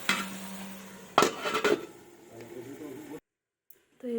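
A lid clanks down onto a pot of vegetarian cabbage curry with a sharp metallic knock and a brief rattle amid a quiet voice and kitchen noise, then everything falls almost silent.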